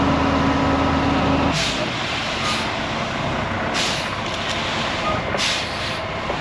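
A loaded truck delivering class 5 gravel at a winter drainage site, a loud steady engine rumble with a few short hissing air bursts, heard alone without talk.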